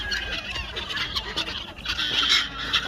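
Brown Leghorn chickens and roosters are released from their coops on a muddy farm, giving a busy mix of clucks and cackling calls, close and continuous, with no voices.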